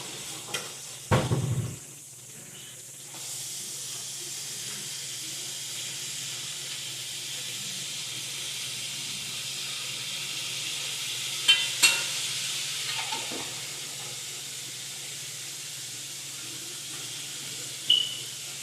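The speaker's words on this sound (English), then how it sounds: "while my fish is frying in that cast iron skillet" Oil sizzles and hisses steadily as fish deep-fries in a cast iron skillet, a constant crackling wash with a few clattering bumps and handling sounds on top.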